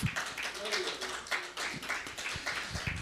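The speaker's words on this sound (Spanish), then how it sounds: "Démosle un aplauso al Señor Jesucristo." Congregation at a church service clapping in applause, a dense, steady patter of many hands close around throughout, with voices mixed in under it.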